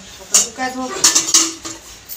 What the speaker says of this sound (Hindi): मैं बर्तन इकट्ठे करा